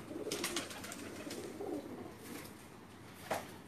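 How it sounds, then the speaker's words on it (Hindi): Paired pigeons in a rooftop loft cooing in soft repeated throaty calls, several birds close by, with light flutters and shuffling between the coos. "ये जोड़े वाले कबूतर हैं।"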